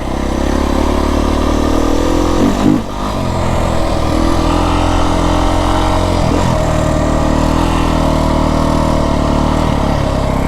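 Beta 350 X-pro dirt bike ridden on a mountain trail in southern Arizona, its engine droning loud and steady with a brief throttle dip and recovery early on, plus wind rush, no talk.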